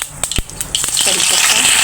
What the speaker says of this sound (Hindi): अब हम इसमें डाल देते हैं साबुत लाल मिर्च